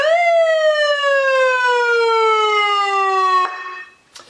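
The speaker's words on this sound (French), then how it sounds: "pour ce qui est de la sirène maintenant, je vais activer" A police-style siren for a motorcycle warning-light and siren kit sounds loud and close, one long sustained wail sliding slowly downward in pitch before cutting off abruptly, followed by a brief click.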